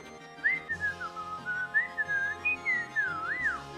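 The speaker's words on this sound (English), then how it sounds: "Deadpool just whistled." A person whistles a wavering, sliding melody alone, clear and close, with soft background music underneath.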